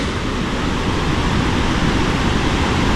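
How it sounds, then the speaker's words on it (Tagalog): Strong river current rushing and churning, a steady broadband roar of water filling the scene without letup, close and loud, at a fishing spot. "Malakas ang tubig banda dito mga kabida. Malakas yung agos pala."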